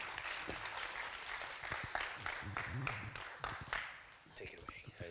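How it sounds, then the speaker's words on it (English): Applause for a guest speaker at a sustainability talk, a steady patter of clapping from a room audience, overlapped by voices and murmuring throughout. "If we could have a warm round of applause for Steffan Heerdt"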